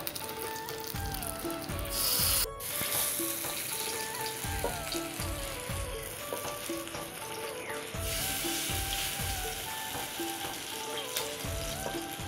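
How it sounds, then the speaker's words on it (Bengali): Small fritters frying in mustard oil for a vegetarian Durga Puja dish, a steady crackling sizzle with occasional bubbling bursts and light clinks of a utensil, continuous throughout with no talking. "এরকম ছোট ছোট করে বড়া করে ভেজে নিব।"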